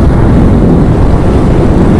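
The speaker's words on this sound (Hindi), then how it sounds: "और क्या तेज हवा चल रही है भाई, एकदम काफ़ी तेज हवा चल रही है" Strong wind buffets the microphone during a mountain motorbike ride on the Yamunotri route in Uttarakhand, a loud, steady broadband roar that fills the whole clip with no voices.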